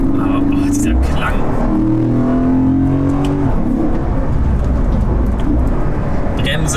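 A Porsche Panamera GTS engine drones loudly while driving, a deep sustained rumble with rising and falling engine tones under heavy road and wind noise, with someone talking over it.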